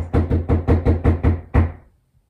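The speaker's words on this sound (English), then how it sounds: "somebody just knocked on my door again" Seven firm knocks on a home's door, loud and close in a quick, even rhythm with a short pause before the last, which rings out into silence.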